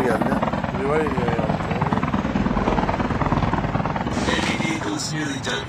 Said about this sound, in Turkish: Helikopter geldi.